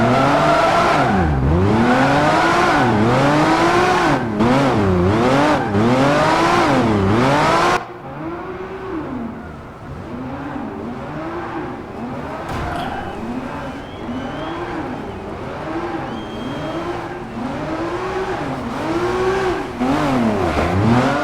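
Race car engine in a Project Gotham Racing 4 replay, loud continuous revving that rises and falls in repeated sweeps as the car shifts and maneuvers, with a brief tire squeal partway through and no talking.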